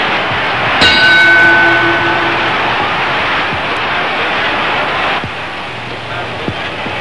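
A ringside bell in a Robinson versus Turpin boxing bout clangs once loudly near the start, its metallic tone ringing and decaying over about two seconds over steady crowd noise.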